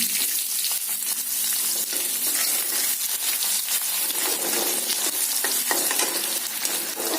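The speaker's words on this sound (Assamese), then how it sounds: "পিঁয়াজখিনি একদম ৰঙাকৈ ভাজিব নালাগে, অলপ চফ্ট হ'লেই হৈ যাব।" Onions fry in oil in a pressure cooker with a constant bright sizzle, close up and even, with faint stirring scrapes underneath.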